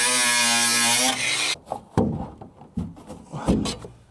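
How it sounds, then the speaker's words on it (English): An angle grinder whines steadily while cutting through the roof ribs of a Renault Trafic camper van, then cuts off, followed by scattered knocks, scrapes and clattering metal close by, with no talking. "I think I'm getting more results with the angle grinder"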